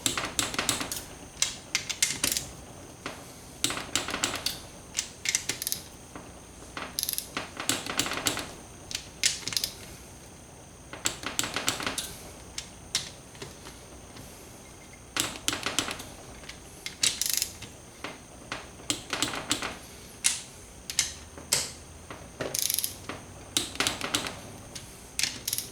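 A ratchet wrench tightening the nuts on a Banshee cool head to 22 pounds, with bursts of rapid clicking separated by short pauses, close and fairly quiet.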